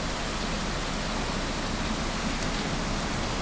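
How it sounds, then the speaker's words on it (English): Hard, heavy rain pours down as a dense, steady roar that stays loud and unbroken, with no voices over it. "Doesn't have the wind of yesterday, but it's much harder, this rain."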